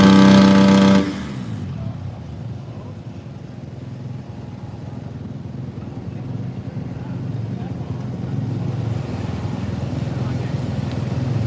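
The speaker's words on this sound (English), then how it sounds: "this motorcycle is so loud" Supercross motorcycle at a Daytona Supercross sound check, its engine running loud and steady for most of the clip, with a louder burst at the very start. Voices talk over it.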